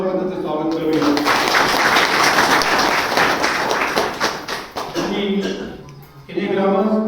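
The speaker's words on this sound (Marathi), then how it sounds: "सर्वप्रथम आपण टाळ्या वाजवून त्यांचं स्वागत करूया." A crowd applauds to welcome a guest at a public honouring event, broad clapping sustained for several seconds, with voices speaking before and after the applause.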